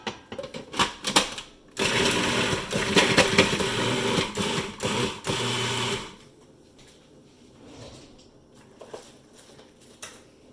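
A food processor roughly chopping onion pieces for a spinach and lentil dal whirs loudly for about four seconds, framed by quieter clicks and handling noises before and after.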